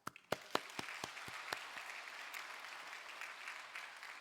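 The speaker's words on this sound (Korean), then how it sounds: "뜨거운 박수로." A church congregation breaks into applause, starting with a few sharp separate claps that quickly merge into a soft, even wash of clapping, fairly quiet and distant.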